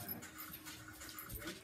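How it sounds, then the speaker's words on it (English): A pet wolf-dog in the Minecraft video game whimpers and pants steadily in a soft, continuous stream of short, high canine sounds, with no talk over it. "My dog wants to play."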